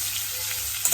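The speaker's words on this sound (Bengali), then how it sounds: "এইভাবে করে ভালো করে ভাজা ভাজা করে নেব" Radish pieces frying in oil in a pan, a steady dense sizzle throughout, close and fairly loud, with a faint stirring clatter near the end and no talk.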